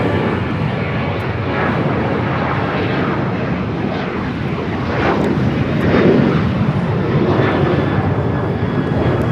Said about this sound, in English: This is American Airlines 1600 taking off to Chicago on the 737-800.